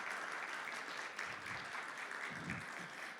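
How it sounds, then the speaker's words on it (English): Audience at a conference opening on Black women in Canada's digital economy applauding steadily, a soft, even wash of many hands clapping, fairly distant and unbroken. "let's give a round of applause for the Honourable Minister Marci Ien."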